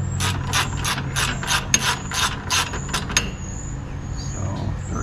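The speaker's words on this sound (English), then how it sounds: "So 13mm socket fits that nut" A hand ratchet with a 13mm socket turns a bracket nut beneath the pulleys on a Cub Cadet mower, giving a rapid run of about a dozen close, crisp clicks that stop partway through, leaving a low hum.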